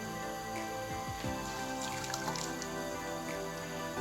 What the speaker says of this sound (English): squeeze the water out as much as you possibly can, put them in the batter